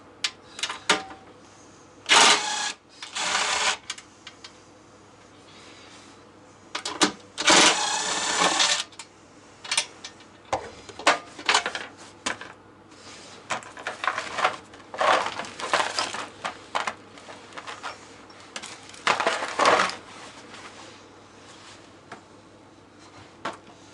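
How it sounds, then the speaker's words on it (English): Bolts are worked loose from the rusty fuel tank of a Honda EX1000 generator, giving bursts of ratcheting, clicking and metallic rattling in irregular spurts between quiet pauses, close by. "So let's get the bolts out."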